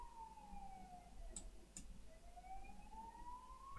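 A distant ambulance siren wails outside, a faint rising and falling tone that fades and returns, with a couple of soft ticks in between.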